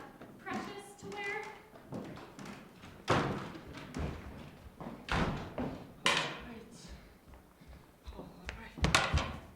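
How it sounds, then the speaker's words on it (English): Knocking on a door upstairs during a stage play, heard as several dull thuds spread across the clip, mixed with stage voices and room noise of a live performance. "Knocking. knocking upstairs."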